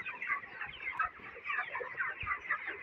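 32-day-old broiler chickens of a Kazi company grade cluck and murmur together in a poultry shed, a busy, faint chorus of overlapping calls with a few soft thumps.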